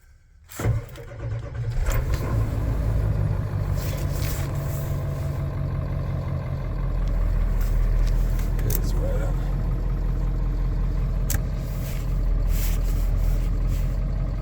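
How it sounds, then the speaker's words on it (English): A 1996 Ford F250 Super Duty truck cold-starts with a burst of cranking, then settles into a loud, steady idle that rumbles on continuously, with some talk over it. "This is a cold start video of the 96 Ford F250 Super Duty."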